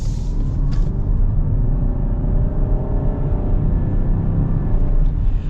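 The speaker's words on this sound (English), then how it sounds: "let's get our full-blown acceleration here with the Pacifica Hybrid" A 2021 Chrysler Pacifica Touring L Hybrid minivan with a CVT automatic accelerating at full throttle, a heavy, steady engine drone and road rumble heard from inside the cabin, holding a near-constant pitch.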